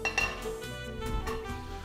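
Food being spooned onto a ceramic platter, with soft clinks and scrapes of utensils against the dish and a couple of brighter ringing taps, close and fairly quiet, no talking.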